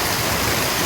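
Heavy village rain pours down with water running and collecting on the ground, a dense, loud, unbroken roar of falling water.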